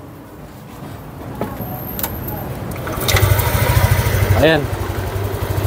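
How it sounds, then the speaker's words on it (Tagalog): A Yamaha Aerox 155 scooter engine starts up after an ECU repair and settles into a steady idle, the motor rumble rising midway and holding under a brief spoken word. "So subukan natin paandarin."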